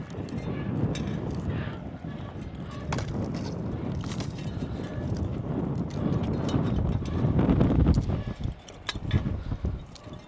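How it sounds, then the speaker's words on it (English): A tractor engine rumbles loudly nearby with rattling, clanking mechanical noise and some wind buffeting, steady throughout. "Making a lot of noise, that tractor."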